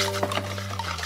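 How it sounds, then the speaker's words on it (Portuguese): Homemade slime mixture being stirred in a bowl, a soft, wet, continuous swishing with a few faint utensil taps over a steady low hum. "E é só mexer que vai ficar pronta a slime"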